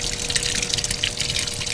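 Low-pressure tap water dripping and splashing onto a ring, a steady broadband wet patter with a faint background hum, close and continuous throughout.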